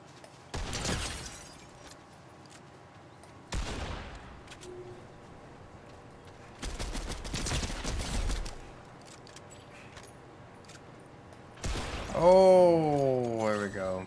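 Bursts of video-game gunfire from a Fortnite-style battle royale, several separate volleys spaced a few seconds apart, loud and close, with a final crash and a sweeping game effect at the end.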